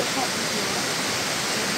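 Garganta waterfall in the Brazilian savanna, a steady dense rush of falling water filling the whole clip at close range, loud and even, with no talking over it.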